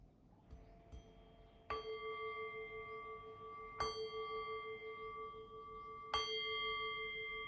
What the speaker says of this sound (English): I'm going to ring the bell and bring us back into a conversational space